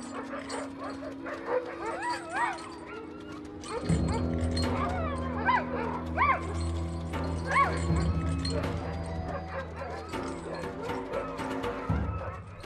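A pack of dogs near an approaching polar bear gives repeated whining yips and short barks, close and moderately loud, over a steady low hum, with a narrator's voice running beneath the cries.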